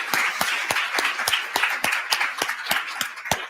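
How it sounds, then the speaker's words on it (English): At the close of a natural history collections conference session, one pair of hands claps sharply and steadily up close while scattered applause from the room fills in behind it. "give me a round of applause"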